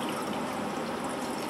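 Measured water poured steadily into a container for mixing, a continuous close splashing rush that runs unbroken for a moment with no talk.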